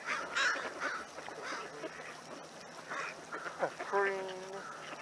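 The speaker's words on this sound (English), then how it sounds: "Sit back, relax, watch the waterfowl play, swim," Ducks and other waterfowl quack and call in scattered bursts on the water in a Seattle neighborhood in winter, fairly faint against outdoor ambience, with a longer honking call toward the end.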